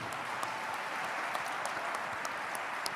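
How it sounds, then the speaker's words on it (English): An audience at the Western Conservative Summit 2022 applauds veterans, a steady, fairly distant wash of many hands clapping with occasional sharper claps poking through, even in level for about three seconds and without speech. "Please, a huge round of applause for them."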